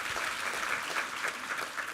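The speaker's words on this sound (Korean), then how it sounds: "우리 하나님께 감사와 영광의 박수 올려드리겠습니다." A church congregation at a Sunday worship service claps steadily in a dense, even wash of applause heard at moderate distance, with no talking.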